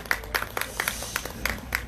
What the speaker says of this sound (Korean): 우리 김명님께 큰 박수 부탁드리겠습니다